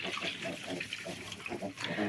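A Vietnamese pot-bellied pig grunts repeatedly in short, close, snuffling bursts, with faint splashing of drinking water in the background.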